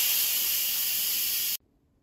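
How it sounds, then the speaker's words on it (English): An Instant Pot pressure cooker's quick steam release: a loud, steady hiss of steam rushes out for about a second and a half, then cuts off abruptly into near silence. "so let's quick release the steam"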